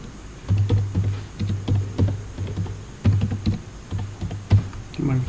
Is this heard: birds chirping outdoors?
no